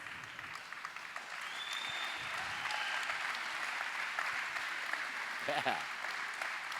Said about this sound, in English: Thank you for clapping for your fellow recovering man and woman.